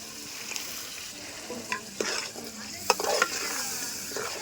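Soaked tamarind juice poured into a spicy fish curry and simmering in the pan, a soft, continuous sizzle and bubble broken by several sharp scrapes and clinks of a stirring spoon.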